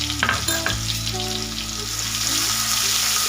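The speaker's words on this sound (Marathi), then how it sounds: "ही आपल्याला तेलामध्येच घालून घ्यायची" A paste of ginger, garlic, green chili and salt dropped into hot oil sets off a loud, close, steady sizzle with a few stirring knocks near the start, and no voices.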